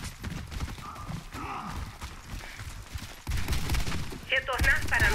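An M249 PARA machine gun with a silencer fires in Warface, with muffled bursts of gunfire over game sounds, and a clearer, louder stretch of shooting and mechanical clatter in the second half.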